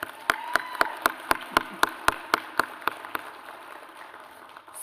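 Sharp, evenly spaced hand claps ring out in a steady rhythm at a Danville housing summit, about a dozen crisp hits that stop partway through and leave a quiet room tone.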